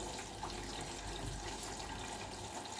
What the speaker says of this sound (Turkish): Makine hazır su alırken